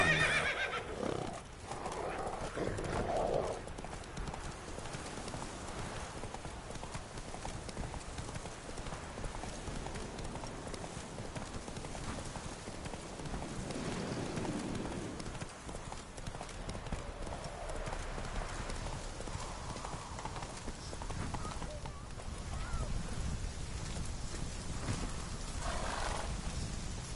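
Roach the horse in The Witcher 3 game clops along with steady hoofbeats and gives a loud whinny. The rider talks over a continuous bed of ambient game sound.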